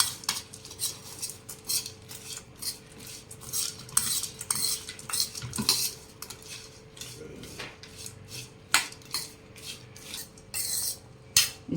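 Farali bhel ingredients are tossed together in a bowl, with a spoon clinking and scraping against the dish in quick irregular bursts, close and clear with no voices.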